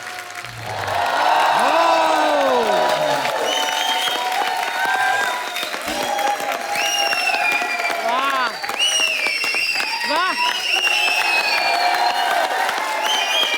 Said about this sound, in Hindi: एक बार जॉन और मोनी के लिए जोरदार तालियां।